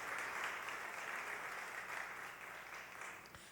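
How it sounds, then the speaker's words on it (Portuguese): Faint, steady applause from a church congregation at an evening worship service, many hands clapping evenly and fading slightly toward the end, with no voices over it. "E devemos dar um forte aplauso ao Senhor"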